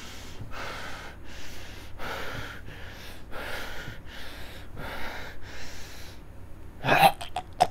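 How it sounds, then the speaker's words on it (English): Heavy breathing sound from Five Nights at Freddy's 2, played inside Garry's Mod: a series of slow, loud, raspy breaths in a steady rhythm, followed by a brief sharp burst at the end. "let's get the FNAF 2 heavy breathing"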